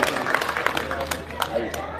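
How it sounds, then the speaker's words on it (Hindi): Kavi sammelan audience in Faridabad applauding poet Suresh Shiv Sharma, a scattered mix of hand claps and murmuring crowd, moderately distant and fairly steady throughout. "एक बार जोरदार तालियां सुरेश शिव शर्मा जी के लिए"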